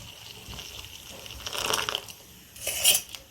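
Melted jaggery syrup is poured for pearl millet (kambu) payasam in a home kitchen. It sounds as a soft, close liquid pour with faint splashing and crackling, swelling in two brief bursts of wet trickling, with no talking.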